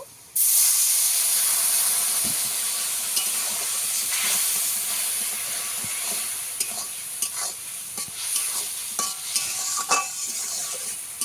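Potatoes and hilsa fish hiss and sizzle sharply in a hot pan as a splash of water hits, a loud steamy burst that settles into steady frying crackle with scattered spatters and stirring clicks.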